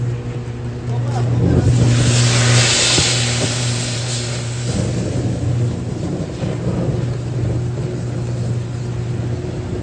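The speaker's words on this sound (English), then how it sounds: "We're going to use this Skytrak for the first time today since the whole fire incident." A Skytrak telehandler's diesel engine runs steadily close by with a loud, even drone that swells as it revs early on and then settles into a constant idle hum.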